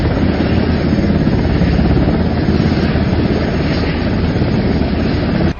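A military helicopter carrying wounded Israeli soldiers to a central hospital, a loud, continuous close rotor and engine roar that holds steady for several seconds.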